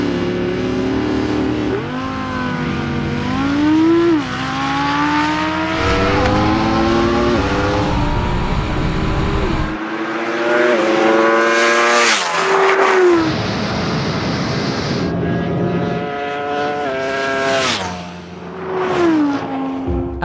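An Audi R8 V10 and a Ducati Panigale V4 launch side by side in a straight-line drag race, their engines revving hard through rising, stepped gear changes, loud and close, with the bike's shrill upshifts cutting above the car's roar.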